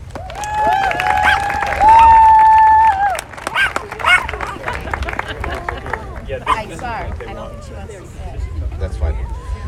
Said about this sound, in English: Now please give a round of applause for the chairman of the board, Bill Beagle.